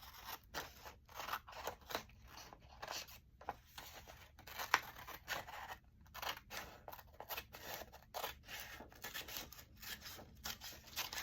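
Scissors cutting paper for a handmade journal, with a steady run of close, crisp snips and rustling paper strokes throughout.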